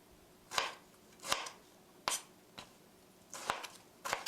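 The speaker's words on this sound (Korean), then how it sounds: "1cm 두께로 썰어주시고요" A knife cuts a tomato into thick slices on a cutting board, six or so sharp separate chops spaced irregularly, close and clear with no talking.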